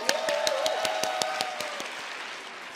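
Audience applause at a business leaders' speech event, heard as scattered, fairly sparse claps over a sustained tonal background, moderately loud and fading slightly toward the end.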